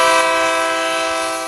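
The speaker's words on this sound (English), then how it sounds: "Here comes the train." A train horn sound effect plays during a radio phone-line segment: a single loud, sustained horn blast holding steady and fading only slightly, with no talk over it.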